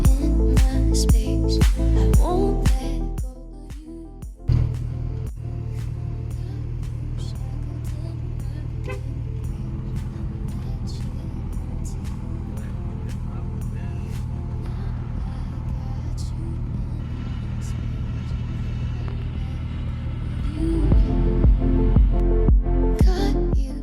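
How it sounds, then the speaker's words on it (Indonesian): A Hyundai Elantra on a test drive over smooth road gives off a steady low engine and road rumble that runs throughout, swelling a little louder at the start and near the end. "Biar nggak penasaran, ayo kita test drive mobil ini."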